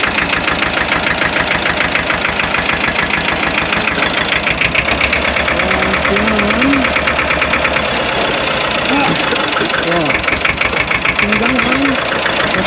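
Deutz tractor engine idling and chugging steadily up close as it is shifted into a low gear, a loud continuous knocking rumble with a voice talking over it.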